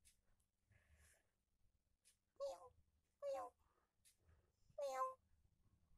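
A cat meows three times at close range, short insistent calls spaced a second or so apart over quiet background rustling.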